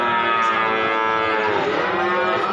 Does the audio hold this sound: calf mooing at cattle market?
yes